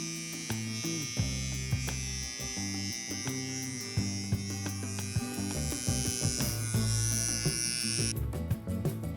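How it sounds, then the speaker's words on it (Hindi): An electric hair trimmer buzzes steadily during a home self-haircut, a close, continuous motorized hum with small pitch shifts as the blades move through hair, and no talking. "ये ट्रिमर का काम तो अब ख़त्म हो गया।"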